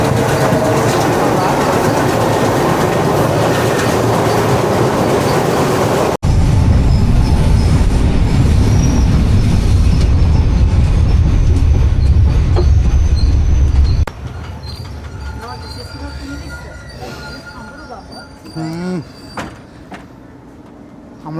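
Loud, steady roar of a moving passenger train heard from the carriage coupled right behind the locomotive on the Colombo to Mirissa line, with rumbling wheels and a sudden shift to quieter running partway through.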